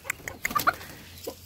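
Young chicks and chickens give a handful of short, high peeping chirps and clucks, scattered irregularly over a second and a half, fairly close and clear with no talk.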